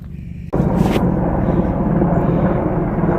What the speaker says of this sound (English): 3 military helicopters going over.